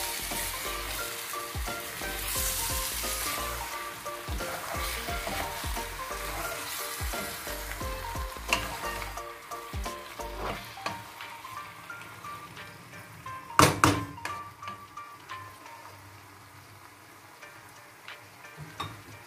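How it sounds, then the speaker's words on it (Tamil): Chicken parts curry with tomato, garlic and onion being stirred in a pan, soft sizzling and scraping strokes for the first half, then quieter simmering with a few sharp clinks near the end. "தக்காளி பழம் வெள்ளப்பூடு வெங்காய கலவை வந்து எல்லா பக்கமும் பரவுற மாதிரி நான் இப்போ வந்து இதை கலந்து விட போகிறேன்"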